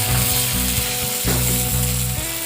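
Green chillies, curry leaves, garlic and ginger crackle and sizzle hard in hot oil, a loud close frying hiss with a few sharp stirring scrapes and pops throughout.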